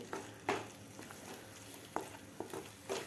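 A masala with fresh coriander is sautéed quietly in a pan for kabuli chana, a soft sizzle broken by a few spaced spoon scrapes.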